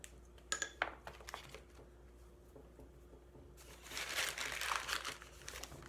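A wire pulled through an inch-thick slab of pottery clay, a soft, faint scraping hiss after a few light taps, heard alone in a quiet room.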